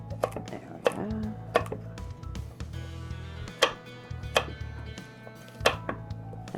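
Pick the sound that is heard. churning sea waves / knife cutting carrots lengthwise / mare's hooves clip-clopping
knife cutting carrots lengthwise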